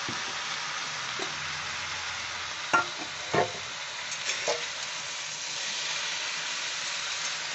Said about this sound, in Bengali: এইবার আমি পটলের স্লাইসগুলো দিয়ে দেব।